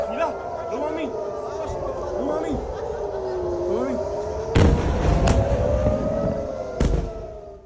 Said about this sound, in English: Sounds of explosions filled the air for several minutes